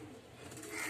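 Pigeons coo softly and continuously close by, around a nest of growing pigeon chicks, a low steady murmur rising slightly toward the end with no talking.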